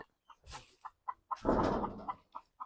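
Five-month-old chicks cluck in short, regular bursts close by on a farm, with a louder squawking flurry in the middle, then more soft clucks.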